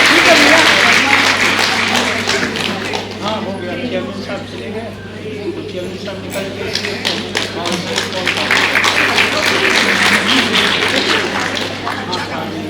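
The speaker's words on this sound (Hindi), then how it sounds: "एक बार जोरदार तालियों से मैम का स्वागत करते हैं" A hall audience at a Women's Day event in NDMC gives sustained, dense applause to welcome a woman, steady clapping at an even, loud level throughout with a faint constant hum underneath.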